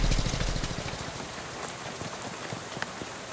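Rain falls in the video game Shadows Over Loathing, a steady dense patter of drops splashing on a surface, with a low rumbling undertone and no speech.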